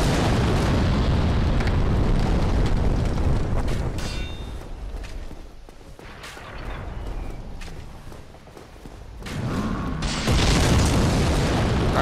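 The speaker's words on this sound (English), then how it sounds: "He's gonna start throwing some bombs onto this little bridge." Bombs exploding on a narrow bridge in Dark Souls Remastered at Anor Londo: heavy booming blasts with rumbling tails, a quieter lull mid-clip, then another loud burst near the end.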